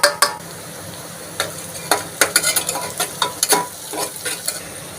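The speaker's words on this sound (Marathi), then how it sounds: "हे सगळे मसाले आपण तेलामध्ये फ्राय करून घेणार आहोत" Ground spices, red chilli powder, coriander powder, turmeric and salt, sizzle in hot oil while a spoon scrapes and stirs the pan in irregular clinks for a corn curry.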